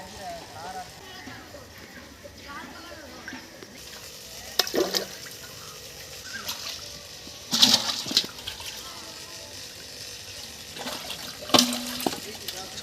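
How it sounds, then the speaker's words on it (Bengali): Large snakehead fish thrash and splash in shallow water at the bottom of a village pond being bailed out, three sharp splashy bursts rising over low background chatter and steady outdoor murmur. "সব লাফাচ্ছে মাছগুলো।"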